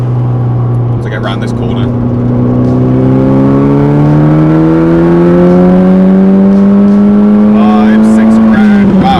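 A tuned 350bhp Nissan Pulsar GTiR pulls hard in third gear, its engine note climbing steadily in pitch as it revs up, loud and close from inside the car, with someone speaking briefly over it.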